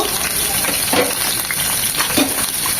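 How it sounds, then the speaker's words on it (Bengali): Chopped chili, ginger, garlic and onion fry in hot mustard oil for a liver curry, a loud continuous sizzle with a few stirring clatters and no talk. "আদা কুচি এক চামচ রসুন কুচি দু চামচ পেঁয়াজ কুচি তিন চামচ এই সব কিছু একদম লাল লাল করে ভেজে নেব"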